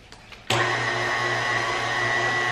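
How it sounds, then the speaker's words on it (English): A stand mixer fitted with a dough hook kneads pasta dough on a medium setting, starting abruptly and then running as a steady, loud motorized whir with a constant low hum, no voices. "make sure you have the dough kneading hook attachment and then just knead on a medium setting until it forms an actual dough"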